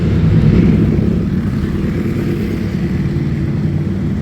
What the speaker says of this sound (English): Motorcycles are loud.